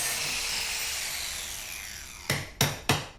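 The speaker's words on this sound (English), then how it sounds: "And Simi's antediluvian hammer" Three sharp metallic hammer taps strike a sign lifter mechanism in quick succession after a quiet stretch of faint background hiss, each blow close and loud.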